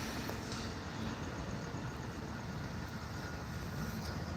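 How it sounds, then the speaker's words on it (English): A Pacific Surfliner passenger train rumbles past in a steady, continuous low roar that holds at an even level from start to finish, with no voices heard. "Hey, you got the Pacific Surfliner, guys."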